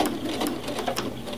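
A sewing machine stitches across the fabric loop of a handmade pot holder, producing a quiet, rapid, even mechanical whirr with light clicking that lasts about a second and a half.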